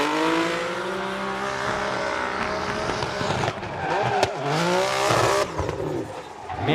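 Drift car engine at Suzuka Twin Circuit revving hard and loud, close by, with rising and falling pitch sweeps and a tire-squeal edge, continuous throughout with brief dips between throttle bursts.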